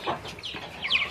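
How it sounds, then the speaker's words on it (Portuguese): Free-range chickens clucking close by in a farmyard, a few short clucks and squawks packed into a brief burst with no talk over them. "Os frangos que a gente tem aqui, que já tá no ponto de abate, acaba batendo neles."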